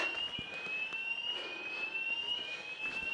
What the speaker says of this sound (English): I can hear a siren somewhere, an alarm going off